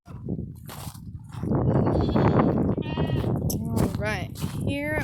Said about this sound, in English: Alright, here are the goats.